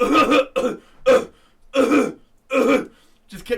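A person imitates an old man's harsh, rasping coughs and throat clearing, several bursts in an uneven rhythm, close and loud.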